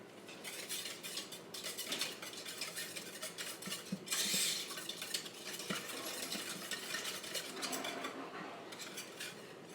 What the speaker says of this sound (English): we're going to just whisk this together